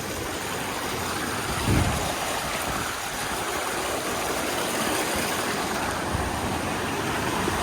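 Small waterfall by Lake Poway spilling steadily over rocks, a continuous close broadband rush of water that holds even and unbroken throughout, with no voices.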